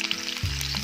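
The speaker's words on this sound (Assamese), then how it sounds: "এতিয়া পাঁচফোৰণ দিছোঁ আৰু দিম কাটা পিঁয়াজ আৰু দুটা শুকান জলকীয়া দিছোঁ" Panch phoron, chopped onion and dry red chillies hitting hot oil in a pan, a steady loud sizzle with a sharper burst as more goes in partway through.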